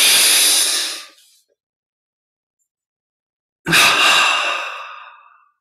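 Two long, loud, breathy exhales during a guided relaxation exercise, the first fading out, then a long silent pause before the second breath swells and slowly tails off, close to the microphone.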